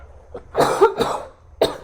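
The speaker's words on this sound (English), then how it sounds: "I had to cough." A couple of sharp, close coughs in quick succession, loud and alone.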